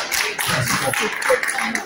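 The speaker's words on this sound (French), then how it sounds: "Est-ce qu'on peut l'applaudir, s'il vous plaît?" Audience clapping at a mathematics lecture in French, a short burst of close, sparse claps from a small crowd with a few taps standing out.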